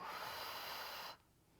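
A single long, breathy exhalation during a pilates exercise, a steady airy hiss held close to the microphone for about a second before cutting off into near silence.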